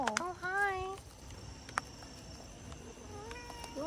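A cat meows several times up close at a villa in Genting Highlands, Malaysia: short rising cries at the start and end with a faint click between, while someone talks softly to it.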